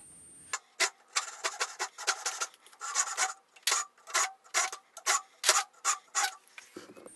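A hand saw cuts a slot into a piece of wood while building a patio server, about a dozen steady, rasping back-and-forth strokes, close and fairly loud with short gaps between them.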